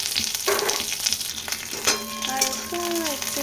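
Raisins sizzle in a pan over a low gas flame as the first step of sago payesh, a steady soft crackle with occasional stirring and a brief voice in the background.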